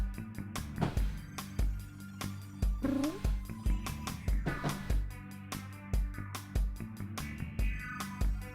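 A pet cat calls out with several meows and caterwaul-like cries among irregular clicks and knocks, fairly close and loud, with no talk.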